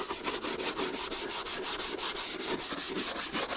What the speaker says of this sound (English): You want to use a hard bristle brush for plastic, just to try to get all that gook out of the grooves that lays in the plastic.